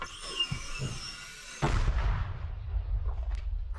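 A single sharp, booming mortar shot rings out nearby during combat near Toretsk, Ukraine, followed by a rolling echo that slowly dies away outdoors.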